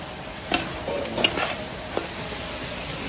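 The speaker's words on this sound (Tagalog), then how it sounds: "Gisa-gisa lang natin sa mantika yan. Sarili niya mantika yan, napirito." Meat sautés in its own rendered fat with bay leaves, giving a steady close sizzle broken by a few sharp scrapes and clacks of a ladle stirring through the pan, with no speech.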